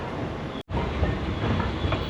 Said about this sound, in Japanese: これからやってくる3番乗り場の京都行き普通列車へ乗り込みます。